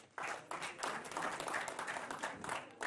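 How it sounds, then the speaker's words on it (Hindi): A crowd at a political speech claps loudly and continuously, a dense wash of applause swelling and holding steady throughout. "गांजा मिलने पे भी ताली बज रही है देश में।"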